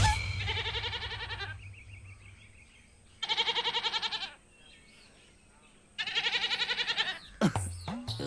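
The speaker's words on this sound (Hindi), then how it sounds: "गोपी, ये बेचारा बकरा इस वक्त क्या सोच रहा होगा?" Goat bleating in three loud, wavering bursts separated by quiet gaps, with a low hum and faint background noise between calls.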